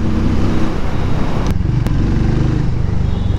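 A Harley-Davidson X440 motorcycle rides on city streets, its engine noise a steady, loud, continuous drone as it pulls up through the gears, with two brief sharp clicks partway through.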